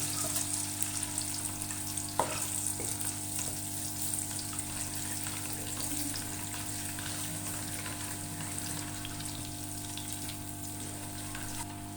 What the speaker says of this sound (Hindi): इसके अंदर ये अंडे हम हल्के से फ्राई करेंगे।